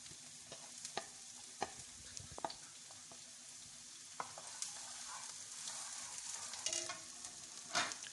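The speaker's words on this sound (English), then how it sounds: "add in your garlic first and then your onion. Then saute it briefly." Garlic and onion sautéing in hot avocado oil, a soft steady sizzle with scattered clicks and scrapes of stirring, fairly quiet and close, with no talking.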